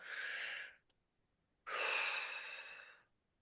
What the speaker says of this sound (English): Now we're going to do the fast sequence again. Breathe in.